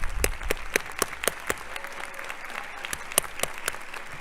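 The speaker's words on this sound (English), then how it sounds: "Big applause, big applause." Scattered applause at a fall university commencement as bachelor's degree candidates stand, with sharp individual claps rising over a thin crowd wash, fairly close and steady for several seconds.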